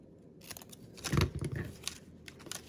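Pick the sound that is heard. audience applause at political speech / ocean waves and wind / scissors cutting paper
scissors cutting paper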